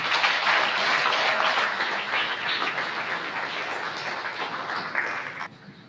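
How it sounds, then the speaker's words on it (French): Dense audience applause at a ceremony on youth entrepreneurship, a loud sustained crowd of clapping hands that holds steady for several seconds before tapering off at the end. "Des applaudissements, s'il vous plaît."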